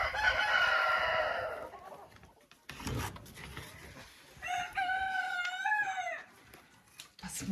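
Hens in a chicken coop give two bursts of drawn-out, tuneful calls separated by quiet rustling, fairly faint and close by, with a short scrape at the end.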